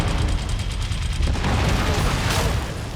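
Explosions and mech weapon fire in MechWarrior 5 Mercenaries combat, heavy low booms and clattering mechanical bursts rolling continuously, loud and close, with a sharper blast swelling near the end.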